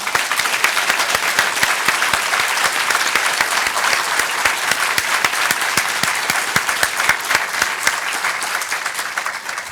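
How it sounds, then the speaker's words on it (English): A conference audience claps steadily and loudly, a dense wash of hands that holds for several seconds and then slowly thins. "I would like for us to give a big hand of applause to Rice"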